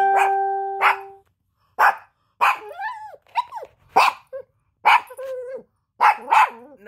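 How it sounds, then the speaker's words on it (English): Dog barking in a string of sharp, loud, close barks spaced about a second apart, some with a whiny, yelping edge, following an opening tone. "No, you can't go see the dog."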